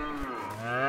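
Cows in the video game A Way Out moo in long, drawn-out calls with rich harmonic tones, one low bellow overlapping another, close and clear without any talking.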